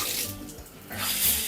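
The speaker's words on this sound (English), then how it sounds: "pretty good shower pressure, instantly hot water" A hotel room shower at a La Quinta Inn near Orlando Airport runs hard, a loud close hiss of spraying water that swells and dips briefly with no speech.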